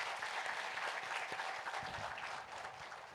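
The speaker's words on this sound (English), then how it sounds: "So please clap for yourselves." A seated audience at a Women's History Month event claps for itself, a steady, dense wash of applause heard from a distance at low volume, continuous without breaks.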